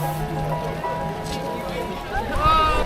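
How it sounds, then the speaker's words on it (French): Heavy rain pours down steadily in the street at Berlin's Brandenburg Gate, a constant close hiss of drops hitting the ground, with voices talking through the downpour. "on se prend vraiment une saucée là"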